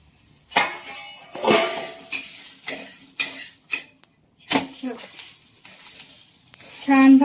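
Traditional dhapate flatbread roasting with a little oil on a pan, soft sizzling broken by scrapes and clinks of a spatula against metal, close by, in uneven bursts with brief quiet gaps.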